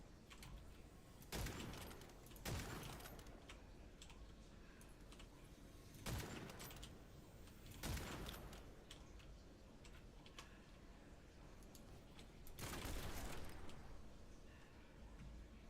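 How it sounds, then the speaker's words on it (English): The Psychopomp shotgun firing in Witchfire, about five sharp, loud blasts spaced a few seconds apart over quieter game ambience. "This shotgun is called the Psychopomp."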